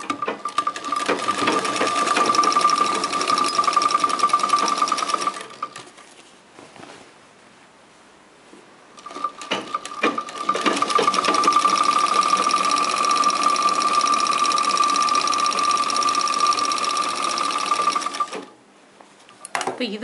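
A sewing machine stitches a half-inch fabric seam in a tailoring class, running steadily for about five seconds, pausing briefly, then stitching again in a long continuous, close and loud burst.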